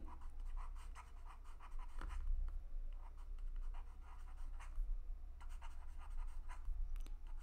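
Pen or chalk writing on a board during a maths lesson on decimals: steady close scratching strokes with brief pauses, over a low room hum, no talk.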